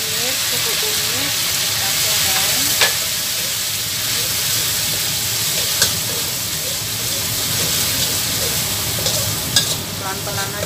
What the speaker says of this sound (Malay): kita goreng bumbu halus yang tadi, bawang merah, bawang putih, jahe, dan kemiri ya